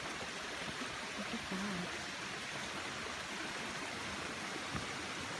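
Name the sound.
stream water flowing at Gulf Hagas, Maine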